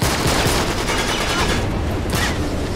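Sustained gunfire from Uncharted 3: Drake's Deception during a fight with an armored pirate, loud dense bursts of shots and impacts filling the whole stretch with barely a pause.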